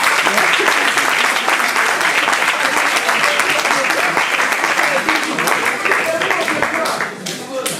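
A church audience at a tenth-anniversary celebration applauds the pastors' children with steady, dense clapping and cheering that holds throughout before easing slightly at the end.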